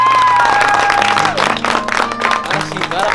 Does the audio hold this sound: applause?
yes